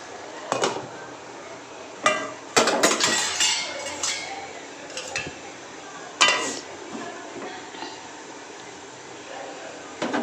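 Biryani masala being sautéed in a pot, with a metal utensil clanking and scraping against the pot in irregular close bursts over a quiet kitchen background.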